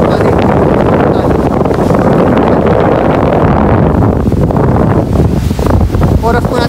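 Strong wind roars continuously against the microphone at Kaike beach in Yonago around 7 in the evening, loud and gusty, with faint surf and a voice partly buried underneath.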